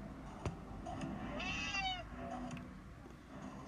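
Cats meow repeatedly inside the Friday the 13th video game, a few rising and falling mewls of moderate loudness over a low steady game background, with no one talking.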